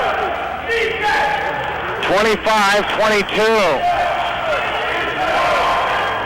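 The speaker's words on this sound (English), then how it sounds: "That'll give this blackout crowd something to cheer about" A blackout student crowd at a McPherson College versus Southwestern men's basketball game roars and cheers after a three-point shot, loud and sustained, with a commentator talking over it.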